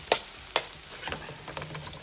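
Onions sautéing in a pan over medium-high heat for a Filipino vegan pinakbet, heard as a couple of sharp utensil clinks and scrapes over a low, soft sizzle with quiet stirring, no talking.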